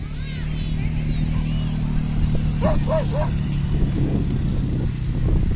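A few short dog yips and barks sound over a steady engine-like rumble, with voices talking in the background.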